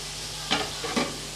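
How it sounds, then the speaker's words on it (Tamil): Potato and drumstick pieces are stirred in a hot pan while sautéing for a dried anchovy curry, giving a soft steady sizzle with two quick scraping stirs, close and brief. "சேர்த்து கொஞ்சம் வதக்கி விட்டுறலாம்"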